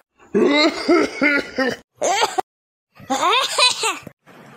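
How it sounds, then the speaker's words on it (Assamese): Repeated throat clearing and coughing from smoke in short, strained bursts, close and loud, with brief pauses between fits. "কাহি কাহি থাকিব পৰা নাই"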